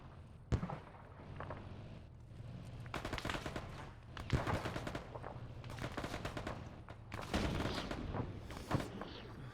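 Gunfire in the video game Arma, distant bursts of automatic and single shots crackling in irregular clusters over several seconds from the north, mostly alone with little talk.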